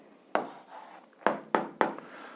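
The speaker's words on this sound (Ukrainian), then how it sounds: "Пишемо відповідь" Pen writing an answer on paper: a short scratchy stroke followed by three quick taps or strokes in a row, close and quiet, with no talking.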